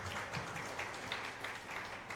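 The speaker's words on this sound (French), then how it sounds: "Il faut lui applaudir." An indoor audience applauds a woman volunteer at a presentation in Côte d'Ivoire with a brief, steady burst of mixed clapping that is moderately loud and has no speech over it.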